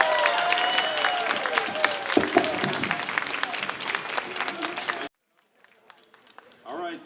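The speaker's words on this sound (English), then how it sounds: "Will you please give a round of applause for Mayor Hansel?" An audience at a Keene Pride event breaks into loud, dense applause and cheering for the mayor, which stops abruptly after about five seconds, leaving near silence before a voice begins.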